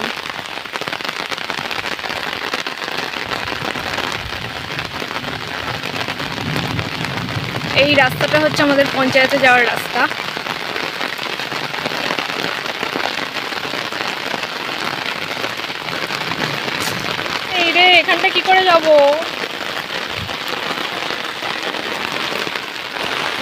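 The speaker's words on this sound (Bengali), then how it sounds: "এখন বৃষ্টি চলে এসেছে প্রচুর" Heavy rain pours over a village road, a dense, continuous hiss of drops hitting the ground and surfaces nearby, while a person talks over it throughout.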